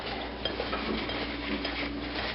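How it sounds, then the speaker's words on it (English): Salted herb crust ingredients being stirred together in a bowl for a prime rib roast, giving soft continuous scraping and light clinks of utensil against dish, close and alone without talk. "So mix that up a bit."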